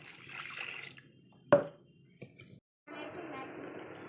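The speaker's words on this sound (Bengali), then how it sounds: "মাংস কষানো হয়ে গেছে, এখানে পরিমাণ মতো পানি দিয়ে দেবো।" Water is poured into a pot of browned mutton, braised for an Eid mutton pulao: a sudden splashing burst, a small knock, then a steady nearby rush of liquid, with quieter stretches before it.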